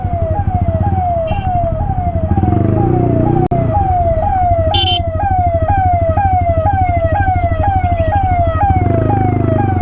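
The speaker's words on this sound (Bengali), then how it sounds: "সামনে একটা অ্যাম্বুলেন্স আটকে গেছে," An ambulance siren wails in a loud, continuous, rapidly repeating rising sweep while the vehicle is stuck in narrow street traffic in Kolkata, the City of Joy, over a steady rumble of engines and traffic.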